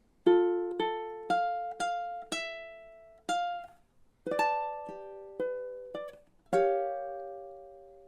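Solo ukulele playing two measures of a ballad chorus, a series of crisp strummed chords in an unhurried rhythm with short pauses, ending on a final chord that rings out, close and clear with no voice.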